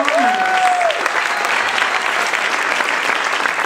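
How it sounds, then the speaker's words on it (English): An audience applauds steadily and loudly for a school's second-grade choir performers, with a brief voice at the start before the clapping fills the room. "how about another round of applause for all of our wonderful performers?"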